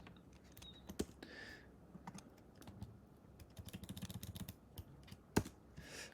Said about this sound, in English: I am fighting against my keyboard.